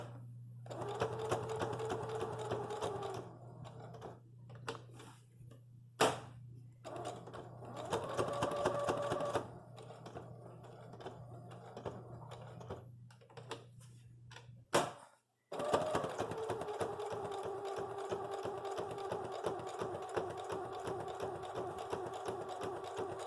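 Sewing machine stitching a Celtic quilt square in slow, careful bursts around curved petal shapes, motor whirring in several runs separated by pauses and clicks, then a long steady stretch of stitching; close and clear with no talk.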